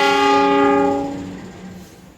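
A train at Bogor station at night sounds a loud, sustained horn chord that swells and then fades out over about two seconds.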